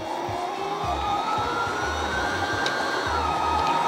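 A Baby Lock embroidery machine winds a bobbin with a steady, even motor whir and a faint high whine, running continuously close by with no speech.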